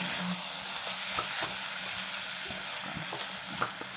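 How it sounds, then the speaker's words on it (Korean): Steady sizzling and stir-frying of whole wheat flour in a pan with occasional scraping and stirring clicks, continuous and fairly close. "이거 넣고 볶는 거야"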